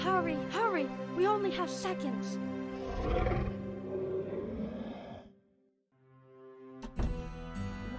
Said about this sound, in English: That is the sound of the werewolf that constantly haunts outside my door.